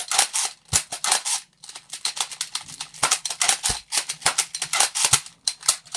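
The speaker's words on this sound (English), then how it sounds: "might as well not use this because it's loud when you reload" A loud Nerf blaster is reloaded and fired over and over, making a fast, close string of sharp clacks and snaps in an even rhythm.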